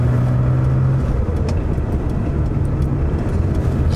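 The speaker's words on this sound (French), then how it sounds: "En tout cas, le flat 6, une tuerie." A Porsche 911 SC's air-cooled flat-six drones steadily while the car drives, with a continuous engine hum and road rumble that stays even throughout and carries no voices.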